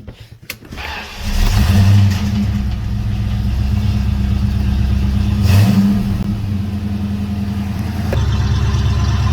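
A 1992 Ford Mustang GT 306 engine starts with a crank and settles into a low, rumbling idle, swelling into a brief rev partway through, close and loud.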